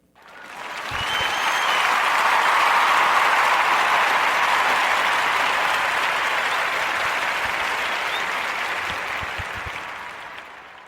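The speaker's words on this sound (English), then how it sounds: "And let's give her a Narrative Podcast warm round of applause for that." A podcast audience gives a warm round of applause, dense clapping swelling quickly and holding steady for about ten seconds before slowly fading, with no talking.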